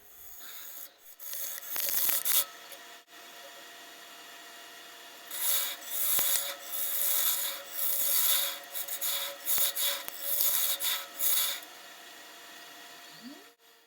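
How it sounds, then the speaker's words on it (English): Bowl gouge cutting into a walnut salad bowl on a lathe, giving repeated scraping, rasping bursts of wood cutting that come and go over a faint steady hum, with no talk. "Coming towards the bottom of the bowl, I actually switched to 2 different bowl gouges."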